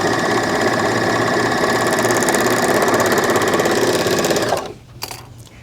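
Bernina L450 serger stitching along a fabric edge, a loud, steady, rapid mechanical whir with fast rhythmic needle chatter running continuously for over four seconds before stopping abruptly, leaving near silence.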